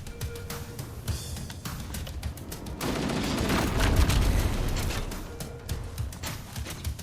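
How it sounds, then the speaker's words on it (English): A fuel rod cannon fires in the Halo Campaign Evolved game: a loud, sustained burst of rapid explosive blasts that swells and roars for a couple of seconds amid scattered gunfire. "I really like the fuel rod cannon in this game."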